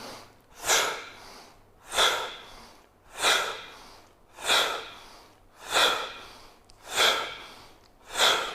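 Slow, deliberate breathing exercise for asthma, with seven loud, evenly spaced breaths about every 1.3 seconds, each a rushing draw of air that swells and fades, close and alone with no talk.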